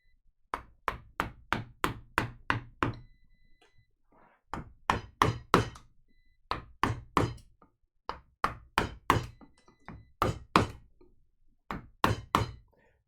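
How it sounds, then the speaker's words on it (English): Metal pieces knocking and clanking in rapid bursts of sharp thunks, several clusters of eight or so hits each separated by short pauses, fairly close and loud with no talk. "Got a bunch of metal rattling around over here."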